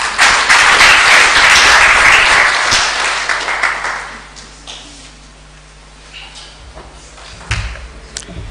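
An audience at a summer school closing ceremony in Rwanda breaks into loud, dense applause that fades over about four seconds into quiet room noise, with a few scattered claps and thumps afterward.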